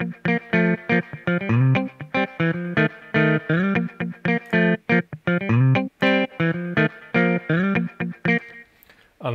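Driven, distorted guitar or synth part plays a busy rhythmic phrase through several stacked delays, with echoes smearing and trailing between the stabs, loud and full, fading into a faint tail at the end.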